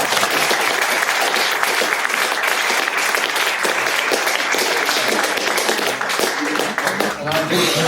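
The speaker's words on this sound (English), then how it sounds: "now you can have a big applause" An audience at a 2024 general election hustings in Porthcawl claps loudly and steadily throughout. Continuous dense applause fills the room with faint crowd noise mixed in.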